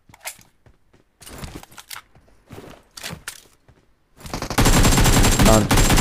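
Gunfire in the PUBG Mobile video game: scattered single shots and short bursts, then a loud sustained automatic volley at the end, with someone talking in places.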